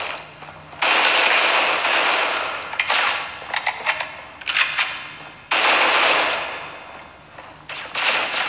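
Shotgun fire in the mobile shooter Critical Ops comes as loud, close blasts in bursts, with broadband cracks and rapid follow-up shots separated by brief quieter gaps.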